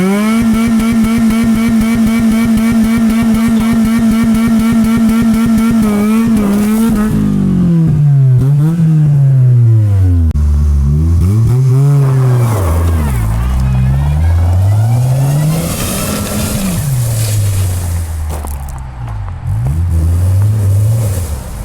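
A Honda Civic being put through a rough durability test idles with a steady engine hum, then revs repeatedly, its pitch rising and falling in loud, close surges.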